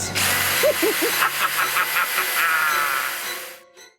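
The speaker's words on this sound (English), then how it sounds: "Be a shame if someone was to drill it." A power drill bores into a P90 airsoft replica gun, a loud continuous whine with a few rising pitch sweeps near the start, running steadily for several seconds before cutting off abruptly.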